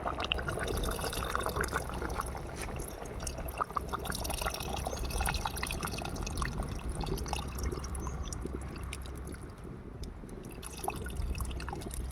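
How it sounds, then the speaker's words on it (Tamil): Tamarind water being poured into a simmering dried fish curry in a pot, a steady continuous trickling and splashing of liquid lasting several seconds, close and moderately loud, with no talking. "இப்போ காயெல்லாம் நல்லா வெந்த உடனே நம்ம புளி தண்ணி ஊற்றிக்கலாம்."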